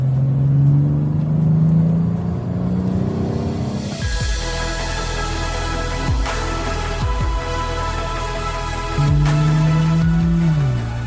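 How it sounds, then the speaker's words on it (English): A BMW 840i Gran Coupé engine in Sport Plus mode sings through rising revs, drops sharply as if shifting, then settles into a deep, throaty drone before climbing again, loud and close. "put it not just in Sport, but in Sport Plus, and then the engine starts to really sing"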